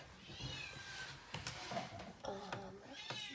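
A cat being chased by a dog meows repeatedly in short, agitated cries, close by, with some faint clatter and voices around it.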